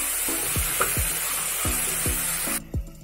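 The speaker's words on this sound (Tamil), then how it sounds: "வெங்காயம் தக்காளி லைட்டாக வதங்கி வந்திருக்கு." Onions and tomatoes soften in a hot pan while being cooked down for ghee rice, a steady sizzle broken by several rhythmic scraping strokes of a spatula, with the frying noise cutting off abruptly near the end.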